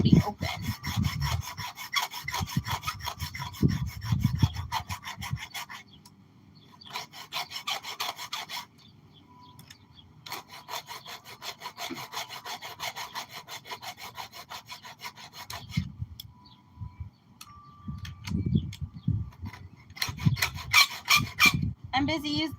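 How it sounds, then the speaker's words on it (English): A chainsaw chain being hand-sharpened with a file, giving bursts of steady rhythmic rasping strokes separated by short pauses, close and fairly loud, with no talking. "I'm busy sharpening the chainsaw"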